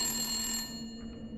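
In Resident Evil Village, an old landline telephone rings with a steady electronic bell tone that cuts off partway through and leaves a quieter room hum.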